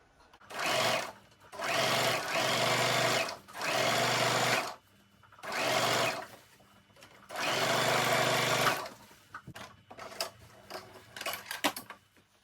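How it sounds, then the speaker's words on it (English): A sewing machine joins raw silk to satin fabric in five whirring runs of a few seconds each, separated by short pauses. Quieter handling clicks and rustles follow at the end. "let's join the raw silk fabric together with it satin fabric so that it will become one piece of fabric"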